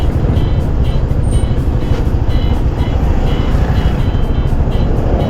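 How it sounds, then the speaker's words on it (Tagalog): Road traffic flows past in a steady, loud low-end rumble of car and truck engines with continuous tire noise, close by and unbroken, without clear speech over it. "Oy, medyo traffic."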